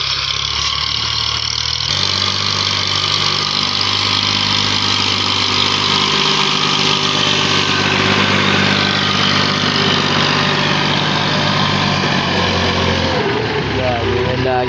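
A tractor that has been hauling soil near a spot where it got stuck runs at a steady idle for the whole stretch, a loud continuous engine drone with people talking over it.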